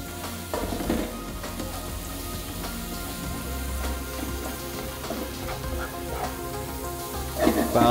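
Shrimp frying in a pan without added oil, cooking as a filling for stuffed squid, with a steady close sizzle and occasional stirring noises and no talk.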